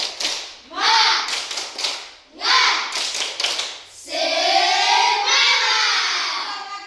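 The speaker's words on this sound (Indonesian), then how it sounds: "Tepuk tangan semangat." A classroom of pupils doing the rhythmic spirit clap, with bursts of quick hand claps broken by short gaps, followed by the group loudly chanting together in unison.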